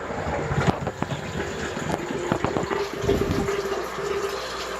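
An aquarium pump drains a 125-gallon tank nearly dry, gurgling and sputtering as it sucks air, with irregular slurping bursts over a continuous watery rush, close up.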